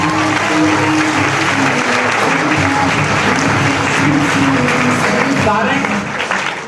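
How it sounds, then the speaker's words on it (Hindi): A large audience at an open seminar in Damoh claps in dense, continuous applause that stays loud and steady throughout, with a crowd murmur blended underneath. "एक बार दूसरा हाथ उठाकर अपनी ताली कर दीजिए, तालियां बजा दीजिए एक बार।"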